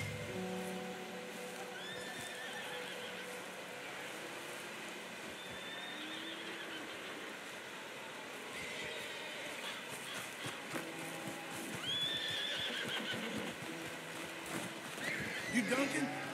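A horse in the Red Dead Redemption 2 video game whinnies and snorts amid clip-clopping hooves and outdoor ambience, the calls rising toward the end, with voices speaking over parts of it.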